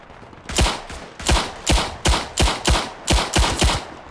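Machine gun fire in the World War I video game Tannenberg, nine loud, close bursts in a fairly regular rhythm, each a sharp crack with a short decaying tail, with no talk over them.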